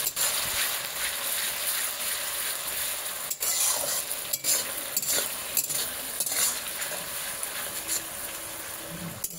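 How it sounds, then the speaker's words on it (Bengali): Onion paste stirred and fried in a pan on a new stove: a steady sizzle runs throughout, with scraping stirs and occasional utensil clinks against the pan. "বাটা পেঁয়াজটা এবার এর মধ্যে দিয়ে ভালো করে নাড়াচাড়া করে নেব"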